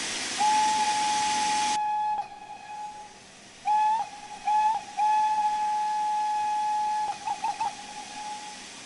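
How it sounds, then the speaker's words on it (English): Steam whistle of an LMS 4F steam locomotive in Train Sim World 3, clear and close: a long steady toot, then short blips and another long blast ending in quick pips, over a loud safety-valve hiss that cuts off early. "This is the whistle."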